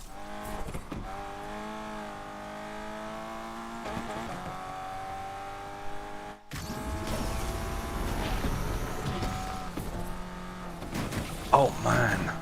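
Car engine in Need for Speed Unbound played on a Logitech G29 wheel drones and revs with tonal harmonics, cuts briefly, then surges louder with tire noise, while someone talks over the gameplay.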